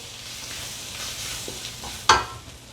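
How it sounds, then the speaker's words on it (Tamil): Fried onions with garam masala being stirred in a pan, with a soft continuous sizzle, faint scraping and one sharp clack of the utensil near the end, close and quiet. "ஆட் பண்ணி போட்டு அதையும் வடிவாக மிக்ஸ் பண்ணி விடுவோம்."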